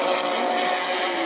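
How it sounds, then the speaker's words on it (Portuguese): Loud, continuous roar of Formula 1 racing engines, including Ferrari and Porsche engines, at high revs during the 1984 Brazilian Grand Prix, steady and dense throughout with no pauses, like cars screaming past close by. "Aí o motor Ferrari e logo atrás o motor Porsche"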